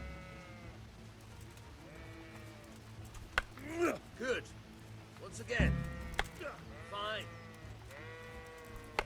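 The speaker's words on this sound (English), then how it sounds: "These cows are going crazy. Or sheep?" Several sheep bleat in the video game Kingdom Come: Deliverance, with wavering calls repeating at a moderate distance while someone speaks over a low ambient bed.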